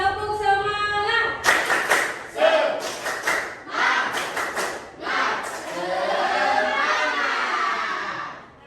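A group of children performs the rhythmic 'tepuk semangat' clapping chant, sharp clap bursts punctuating loud shouted chanting, with a voice leading at the start; close and energetic.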